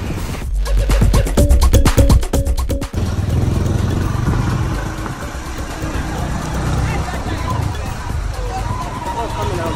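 Motorbike engine in Porto-Novo, Benin, heard while riding: a sharp rapid rattling rev at the start, then a steady running drone with street noise and voices mixed in.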